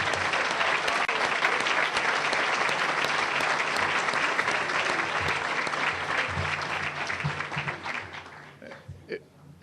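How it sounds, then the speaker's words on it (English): An audience applauds Chicago Public Schools staff with sustained, loud clapping from a large crowd that fades out toward the end. "Give them a round of applause."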